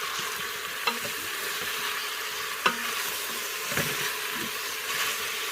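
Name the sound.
frying garlic in oil in a pan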